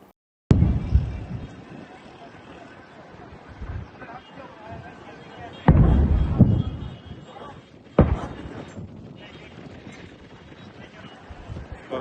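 Missiles fired by Kuwait against Iran, heard as three loud, sharp launch blasts spread across the stretch, each followed by a rumbling, gusty roar over steady wind-like background noise.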